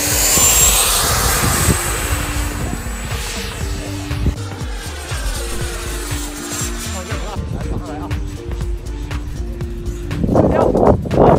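A beginner remote-control trainer airplane, about one metre across, waterproof and all-terrain with night navigation lights, drones steadily through its flight test, its engine tone shifting in pitch and loudening toward the end, with no talk.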